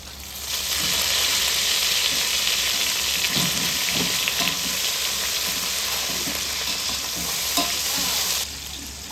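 Chopped onions and green chillies fry in a pan for a meal maker pulao, giving a steady, loud sizzle with occasional stirring scrapes that runs unbroken until it drops off near the end.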